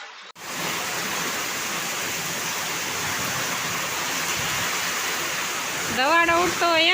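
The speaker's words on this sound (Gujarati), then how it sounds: "આ તો કંઈક અલગ જ પ્રકારનો વરસાદ છે" Heavy monsoon rain pours down steadily on a farm in Gujarat, a dense, even hiss filling the whole stretch, ending with a brief sound near the close.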